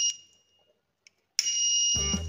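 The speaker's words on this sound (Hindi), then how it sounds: "यहाँ पर वाटर पंप तुरंत ऑन हो जा रहा है और बजर की भी आवाज आ रही है कुछ इस तरीके से" A homemade automatic fire extinguisher with a water pump sets off its buzzer, a steady high electronic tone that starts suddenly and sounds continuously, with a low motor-like rumble from the pump joining near the end.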